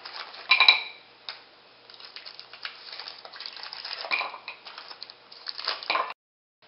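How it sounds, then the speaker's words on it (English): Continuous clattering and scraping of chocolate pieces tumbling into a big bowl, with a sharper clink near the start, steady and close. "take your chocolate and put it all into a big bowl."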